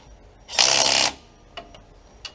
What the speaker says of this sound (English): So tighten these kind of as I would a lug nut, and just in an alternate across pattern